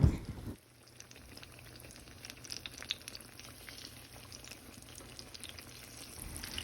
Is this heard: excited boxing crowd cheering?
no